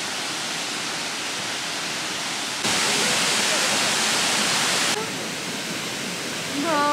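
The Cascade des Aigrettes waterfall on Réunion roars as a steady, broadband rush of falling water that swells louder for a couple of seconds midway, with a few faint voices near the end.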